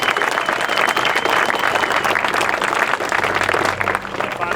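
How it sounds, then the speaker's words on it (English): A crowd at a Tactical Games regional competition applauds the range officers, steady dense clapping filling the whole stretch, loud and continuous with no voices standing out. "Next up, a big round of applause for all the range officers."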